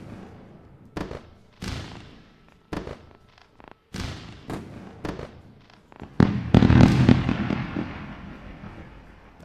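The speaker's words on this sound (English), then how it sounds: "celebrating with a round of fireworks" A fireworks sound effect plays on a live futures day-trading stream, with a series of sharp separate bangs followed by a denser, louder crackling barrage near the end.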